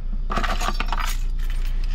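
Keys jangle and clink as someone rummages inside a car for a Maxtrax key while bogged on a track, a burst of close metallic rattling that fades into softer shuffling over a steady low hum.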